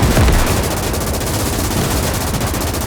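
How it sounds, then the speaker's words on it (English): Sustained machine gun fire from a German WW2 trench position in Gates of Hell on the Eastern Front: a dense, rapid burst of shots, loud and close, continuing for the whole stretch with no talk. "Let's try our machine gunner right here"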